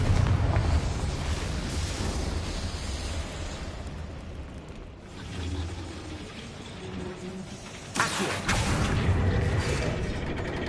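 Spell-casting blasts in the video game Hogwarts Legacy: a continuous loud roar of rumbling explosions and crackling magic, with a dip midway and a sudden fresh burst near the end.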